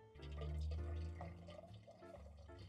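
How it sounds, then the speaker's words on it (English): Liquid nettle fertiliser pours steadily into a bottle, a continuous close gurgling stream with a rising pitch as the vessel fills. "So I'll just grab the nettle fertilizer and I'll start pouring it in."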